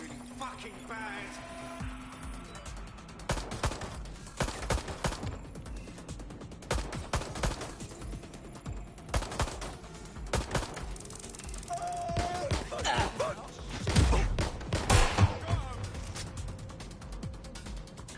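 Gunfire in Watch Dogs, scattered sharp shots and bursts with mechanical clicking and rattling between them, mixed under people talking.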